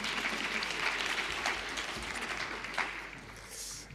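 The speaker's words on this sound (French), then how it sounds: "Je vous laisse l'applaudir." An audience claps at a medical congress of general-practice interns, a dense steady applause held for several seconds, moderately distant and filling the hall.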